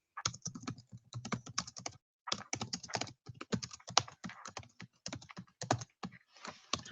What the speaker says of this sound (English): all I do is I click on the box, and I can type in whatever I want